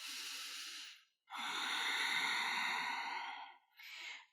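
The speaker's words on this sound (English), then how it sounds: "Can you reconnect to some longer and deeper breaths?" Slow, deep breaths during a yoga session, a long airy exhale, a longer drawn inhale and the start of another, close and soft with no talk.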